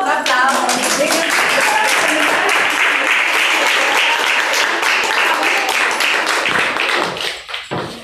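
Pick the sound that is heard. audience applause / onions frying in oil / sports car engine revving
audience applause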